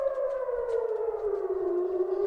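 An air raid siren in Israel warning of a missile attack wails loud and steady with a slowly falling pitch, sounding alone without any voices.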